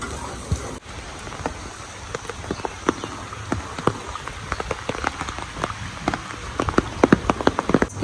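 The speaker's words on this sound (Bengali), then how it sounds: "আজকে বাইরে বৃষ্টি পড়তেছে সারাদিন ধরেই" Steady heavy rain patters throughout, with scattered louder drips and taps standing out against a dense wash of falling water.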